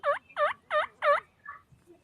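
Wild turkey gobbles in a rapid burst of four loud, rattling notes, followed by a couple of fainter trailing calls, heard outdoors with no talking.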